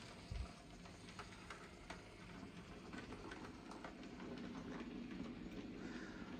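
A Lima model railway train trundles along the track and away into the distance, a faint, steady rolling rumble with light clicking over rail joints after a single soft bump at the start, no voices.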